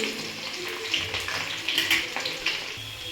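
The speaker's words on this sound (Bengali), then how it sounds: "এবার দেব কুচিয়ে রাখা পেঁয়াজ পেঁয়াজটা একটু নাড়াচাড়া করে নিচ্ছি" Chopped onion is stirred in a pan with cumin, whole garam masala and bay leaf for mutton liver curry, making intermittent scraping and light sizzling hisses from the spatula at close range.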